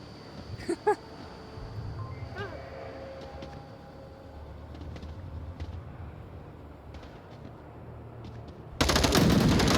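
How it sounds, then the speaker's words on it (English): Gunfire in the Onward VR shooter comes as a few sharp shots early on, with scattered fainter shots under a murky game background, then a loud burst of noise at the very end. "Shots from Soda down"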